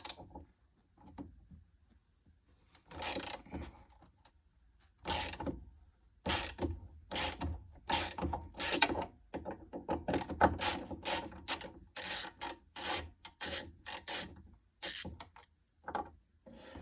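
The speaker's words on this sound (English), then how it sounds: "so we're ready to try to take this nut off" Nut being worked loose with a ratchet on a Camaro spoiler stud held by a vice grip; close, loud bursts of ratcheting clicks come in repeated strokes with brief pauses between them.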